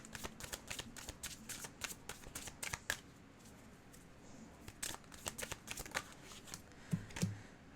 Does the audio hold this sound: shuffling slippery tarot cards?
yes